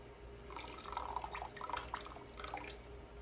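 Lime juice trickles into a pan of green curry with scallops, shrimp, corn and tomatoes, giving soft, close dripping and pouring sounds at low volume for a few seconds with no talking.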